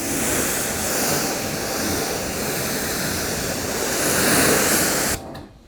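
Water sprayed from a hose onto car paintwork before a ceramic foam coating is applied, a loud, steady hissing rush that swells near the end and cuts off abruptly.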